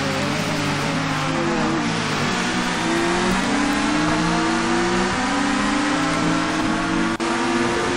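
A touring car engine races at Silverstone in TOCA 2 Touring Cars during an expert championship round. The engine drones at high revs, loud and steady, and climbs in pitch as the car accelerates through the gears.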